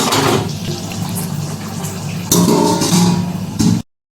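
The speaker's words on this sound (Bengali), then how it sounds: "জলটা ফুটে গেছে, এর মধ্যে এবার দিয়ে দেবো মাছগুলো, ভালো করে একটু নাড়াচাড়া করে নিয়ে এবার চাপা দিই" Fish pieces drop into a pot of boiling water for a curry and are stirred, giving a steady, close, watery bubbling and sloshing that swells near the middle and cuts off abruptly.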